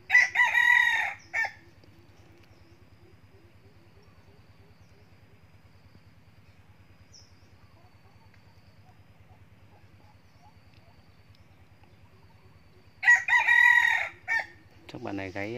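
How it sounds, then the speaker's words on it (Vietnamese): A rooster crows in a forest, two loud nearby crows separated by a long quiet stretch with a low steady hum underneath. "Chắc bạn này gáy nhiều quá"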